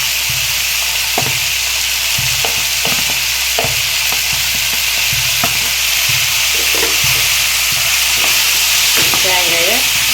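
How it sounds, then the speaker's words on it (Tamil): Grated coconut sautéed in a pan for pepper tomato chutney: loud constant sizzle with rhythmic spatula scrapes and taps repeating every second or so, close up and without talk. "தேங்காயை ஒரு 2 நிமிஷம் நல்லா வதக்கணும்"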